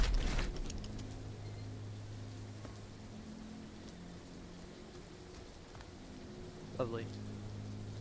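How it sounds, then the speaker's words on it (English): Steady rain falling in The Walking Dead: Saints & Sinners, a soft constant patter on surfaces with a low hum beneath, and a player's voice speaking briefly near the end. "It's so rainy over here."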